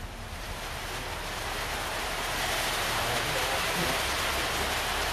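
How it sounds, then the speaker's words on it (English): Strong wind gusts outdoors roar steadily across the microphone, a continuous broad rushing noise that swells slightly louder toward the end. "the wind's picking up"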